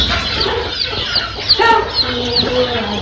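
Chickens and chicks near a hatching setup, close, repeated clucks and short high peeps scattered across the moment, loud and without talk.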